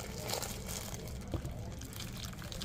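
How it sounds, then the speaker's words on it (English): Hot water pours and splashes steadily out of a bag of softened noodles, a continuous watery rush with no pauses, fairly faint and heard alone. "So now I'm going to drain the water out of these."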